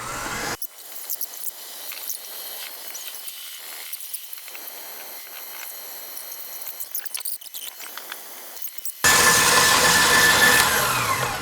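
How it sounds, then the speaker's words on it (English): An industrial 8-quart KitchenAid stand mixer whips egg whites with a steady, close whirring drone that runs throughout, rising to a louder, brighter whine near the end. "So everybody asks about my KitchenAid. This is an industrial 8-quart one."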